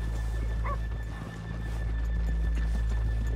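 Horses in the Red Dead Redemption 2 video game give a short whinny early on, with scattered hoof clops over a steady low ambient hum throughout.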